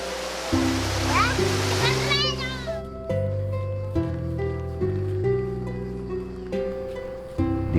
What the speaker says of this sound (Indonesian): Ini namanya Sungai Cibaheno.